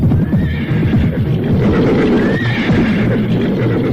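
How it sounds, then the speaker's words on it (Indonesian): Horses gallop fast over a small, rocky road, their hooves drumming in a steady rapid clatter. Two shrill neighs rise above the hoofbeats, the whole sound loud and close. "Jalan-jalan kecil dan berbatu tak mengurangi kecepatan lari kuda Raden Pramban dan Mangur"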